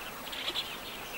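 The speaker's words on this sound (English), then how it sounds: "their regular route takes them close to a colony of carmine bee-eaters" A breeding colony of carmine bee-eaters on the Zambezi riverbanks, near acacia woodland, gives off faint, scattered high chirps over a steady hiss of bird and insect sound.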